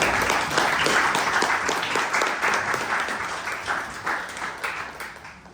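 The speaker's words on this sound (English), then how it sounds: "Big round of applause." Attendees at a design and AI meetup give a round of applause: continuous, dense clapping from a moderate crowd, strong at first and gradually tapering off.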